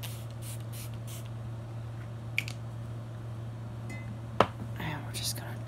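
Smashbox Photo Finish Centering Citrus primer water and setting spray is misted in a few short, soft hissing bursts. Quiet whispered talk, a faint click and a low steady hum sit underneath.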